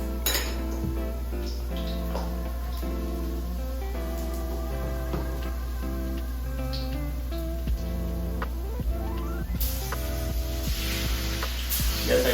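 Garlic and beef fry in a pan for Cambodian beef lok lak, with a continuous sizzling hiss under frequent clinks and scrapes of a utensil against the pan, close and steady throughout.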